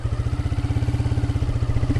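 A motorcycle engine chugs steadily just after the clutch is let out, a close, rhythmic low-pitched pulsing at an even pace with a faint mechanical clatter on top.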